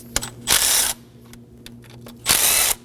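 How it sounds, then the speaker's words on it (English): Bolts come off the valve cover of a 2016-2020 Kia Sorento 2.4L four-cylinder with a 10mm socket: two bursts of buzzing power ratchet spinning, each around half a second long, with a few clicks between them. "Using a 10mm socket, we're gonna remove all of these bolts around the valve cover."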